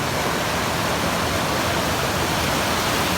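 Steady, full-bodied rush of an Appalachian Trail stream flowing close by, constant and loud with no pauses or voices.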